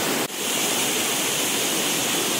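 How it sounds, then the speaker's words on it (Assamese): A waterfall near Cherrapunji roars as a steady, dense rush of falling water, loud and unbroken throughout, with one brief knock near the start. "ইমান ধুনিয়া জলপ্ৰপাত পানী বিলাক পৰি থকা পুৰা শব্দ শুনে"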